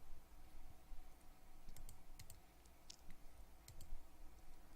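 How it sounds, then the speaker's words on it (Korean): Computer mouse clicked in quick pairs while working in a spreadsheet, several crisp, faint double clicks spaced through a quiet room hum, alone with no voices. "다시 더블 클릭해서"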